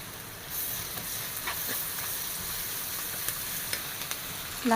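Onion with ginger-garlic paste sautéing in a pan, a continuous moderate sizzle with soft stirring clicks and scrapes, close by, no voices.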